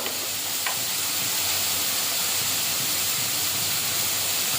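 A paste of ground cumin, coriander and mustard with turmeric and chili powder fries in hot oil for a fish curry, making a steady, close, even sizzle that runs without a break from start to finish.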